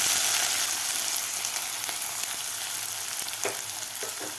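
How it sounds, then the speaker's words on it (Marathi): Chopped onion sizzles steadily in hot oil with mustard seeds and cumin, a dense continuous frying hiss with a few faint spatula scrapes near the end, close and fairly loud with no voices. "कांदासुद्धा आपल्याला दोन मिनिट परतून घ्यायचा आहे व्यवस्थित कांदा परतायचा आपल्याला"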